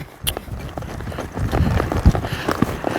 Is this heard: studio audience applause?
no